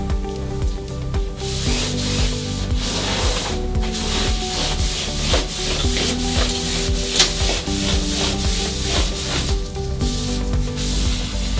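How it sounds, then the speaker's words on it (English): A rag wiping the top surface of an operating room table, steady continuous rubbing strokes close up that carry on throughout with no talking. "So I wipe the entire top surface."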